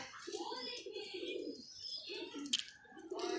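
Pigeons coo in low, throaty, rolling calls, several in a row, with a faint chirp and soft background sounds.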